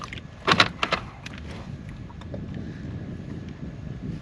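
Wind blows across a kayak on the Gulf Coast Intracoastal Waterway near Port Mansfield, a steady low rushing with a couple of brief knocks near the start.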